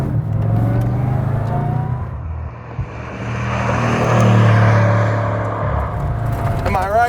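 A 1500 hp Bugatti Chiron Pur Sport accelerates hard in handling mode, its engine droning loud and steady with a deep rising roar and wind rush heard from inside the cabin, swelling past the midpoint before easing slightly.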